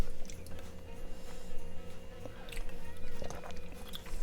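Someone chews chewy boba tea pearls from a homemade tea kit, with soft, wet squishing and biting sounds close to the mouth over a low background hum.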